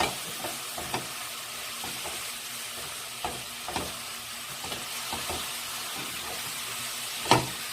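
Sausages stir-fried and tossed in a bubbling soy sauce mixture, a quiet steady sizzle with faint scattered clicks of stirring and one sharper knock near the end.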